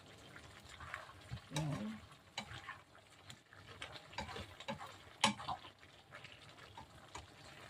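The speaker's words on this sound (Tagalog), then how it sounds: "Halo na natin guys kasi yung vinegar nangamoy na" Igado in a pan with vinegar is stirred, giving faint scraping and tapping of a spoon over a soft sizzle, with a couple of sharper clinks and quiet background murmurs.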